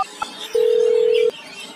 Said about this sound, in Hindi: फोन करता हूँ तेज़ा भाई